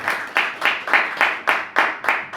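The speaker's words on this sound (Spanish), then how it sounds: "Dale un aplauso al Señor" A church congregation claps in a steady, even rhythm, about eight sharp claps in quick succession, close and clear, with no talking over them.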